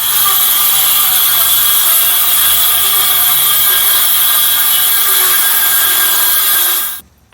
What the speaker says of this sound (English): getting ready to rip this board in half. Don't forget your safety glasses. I'll be using my circular saw.